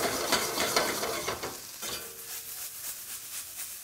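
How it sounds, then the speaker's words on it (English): Vegetables and green chilies sautéing in a pan for hot artichoke dip, a dense hiss with repeated scraping stirs, louder at first then settling into a quieter rhythmic scrape. "what we're trying to do is just caramelize all the vegetables"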